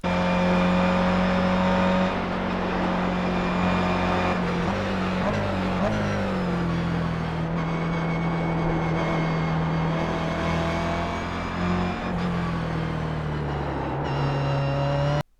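A race car accelerates and shifts in the iRacing sim played on a gaming wheel, a loud continuous engine howl with pitch steps between gears, with speech over the top.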